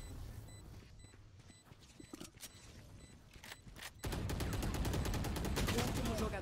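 Gunfire from a burst-fire weapon in the Valorant tactical shooter: a few sharp shots early, then a dense, loud stream of rapid rattling fire over the last couple of seconds, with a voice speaking underneath.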